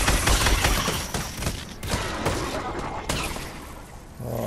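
Rapid gunfire from a Fortnite match during a live event, a dense burst of sharp repeated shots up close that thins out over a few seconds, with players talking over the action.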